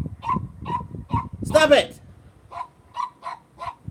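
A pet dog barks in a home, sharp yips repeated roughly every half second, with a longer whimpering, whining cry in the middle, while a person speaks up briefly over the barking.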